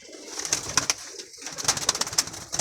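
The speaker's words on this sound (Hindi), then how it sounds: "भैया कबूतर ही चल रहा है फुलसरा।" Pigeons in a loft cooing and calling, with bird calls repeating steadily over about three seconds, fairly close and clear, with rustling in between and no talk.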